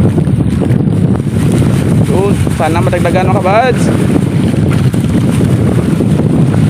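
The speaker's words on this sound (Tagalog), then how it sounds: "Hangin galing Negros pa." Steady wind buffets the microphone with a constant roar throughout, while someone speaks briefly over it.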